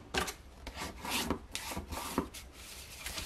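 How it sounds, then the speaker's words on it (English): A scored piece of cardstock is burnished with a tool in quick, close, soft rubbing strokes, a run of short scraping passes in an uneven rhythm. "I'm going to burnish it."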